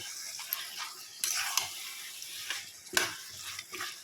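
Mutton stir-fried with spices in a pan gives quiet sizzling with intermittent scraping and clinking of a spatula against the pan, several sharp stirring hits standing out over a low, steady fry.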